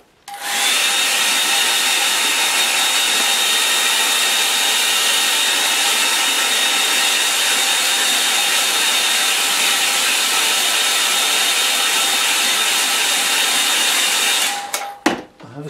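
A hair dryer blows over a wet watercolour painting, a loud, steady whooshing roar with a high motor whine that switches on abruptly, holds for about fourteen seconds, then cuts off.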